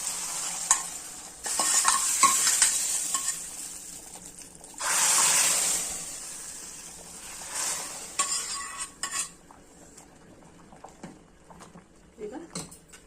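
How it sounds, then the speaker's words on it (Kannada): Browned tempering tips into a dry fish curry with potato, brinjal and beans, setting off bursts of sharp sizzling, then spoon scraping and clinks against the pot as it is stirred, with brief talk in between. "ಒಗ್ಗರಣೆ ಹಾಕ್ಕೊತೀನಿ."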